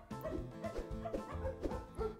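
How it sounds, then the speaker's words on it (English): A dog howls in the Majotori video game, a run of short, repeated vocal cries over the game's soundtrack. "Oliver howled as hard as he could."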